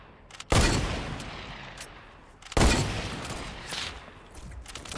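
Gunfire in Fortnite, with two sharp loud bursts about two seconds apart, each fading into a rattling tail of shots and echo.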